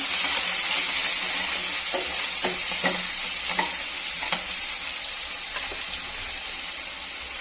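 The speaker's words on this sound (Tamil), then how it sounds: "இன்னும் ஒரு 4 பீன்ஸ் போட்டு நல்லா வதக்கலாம்" Beans stir-fried in hot oil with mustard seeds and cumin, a continuous close sizzle broken by several scraping, clattering stirs of a spatula in the pan, no voices.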